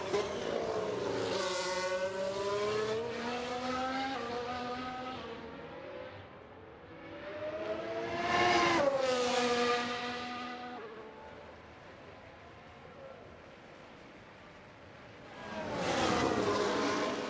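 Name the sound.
F1 race cars leaving the pits, F1 Manager 2023 video game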